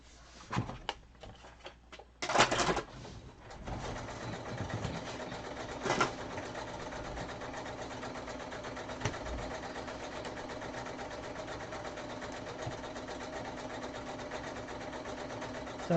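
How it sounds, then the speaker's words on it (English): A sewing machine stitches quilt pieces together. A few clicks and handling noises come first, then a steady, even motor whir runs close by until the end. "So let's sew those together."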